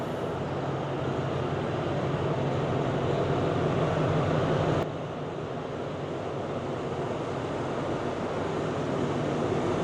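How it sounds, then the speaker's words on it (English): A train arrives at a station between Vientiane and Bangkok, heard as a steady, heavy rumble with a broad hiss that drops slightly in level midway and then carries on evenly. "There, our train is finally arrived."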